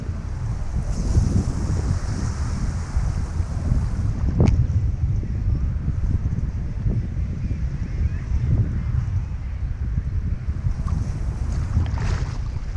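Wind roars into the microphone over steady breaking surf on a beach during surf fishing for speckled trout, a continuous loud wash with no talk.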